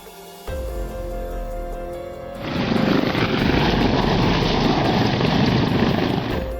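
A plane landing on a snowy runway at Courchevel Airport in France: a steady engine drone rises into a loud, broad roar of rushing snow and engine noise that holds for several seconds.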